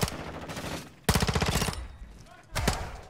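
Rapid automatic gunfire in Call of Duty: Modern Warfare 2 on the Shipment map, coming in three loud bursts of sharp, evenly spaced shots with brief pauses between them and voices chatting over the action.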